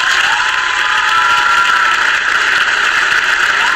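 A video game stadium crowd in Madden NFL 25 roars and cheers in a continuous, loud wash of noise, with no one talking over it.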